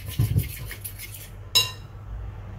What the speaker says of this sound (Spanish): Bien, y ahora vamos a mezclarlo todo muy bien.